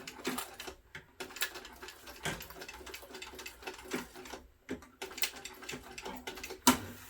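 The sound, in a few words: sewing machine stitching backpack strap ends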